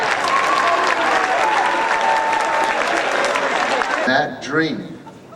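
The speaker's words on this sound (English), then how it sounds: "I want you to get up for me and applaud all your teachers" An audience stands and applauds its teachers at a school lecture, with dense sustained clapping that fades near the end as a voice begins speaking.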